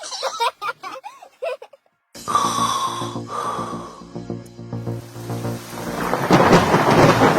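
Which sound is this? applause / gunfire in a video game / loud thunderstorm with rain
loud thunderstorm with rain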